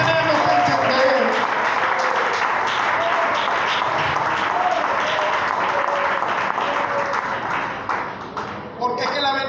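A church congregation claps loudly on a preacher's call for strong applause, a dense roar of hands with voices mixed in, fading out near the end.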